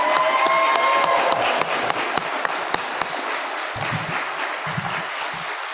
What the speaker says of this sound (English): Let's give one more big round of applause for our class of 2021.